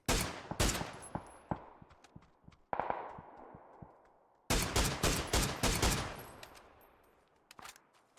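Gunfire in the battle royale game PUBG, with a series of sharp, loud shots in bursts and single cracks spread across the stretch, some rapid clusters and short pauses between.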